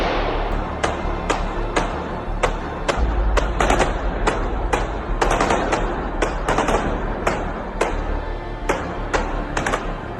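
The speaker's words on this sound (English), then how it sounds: "some kind of shooting, followed by an explosion occurred at Crocus City" Rapid gunfire crackles near a concert hall in news footage, loud repeated shots in irregular bursts with no talk, echoing over a rumbling background.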